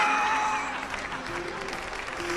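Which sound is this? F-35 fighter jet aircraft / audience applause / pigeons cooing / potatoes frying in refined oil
audience applause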